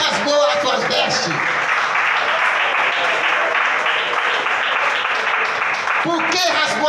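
A church congregation claps hard and shouts praise together at a Pentecostal-style evening service, a loud, dense wash of clapping and voices holding for several seconds, with a preacher's voice heard at the start and end.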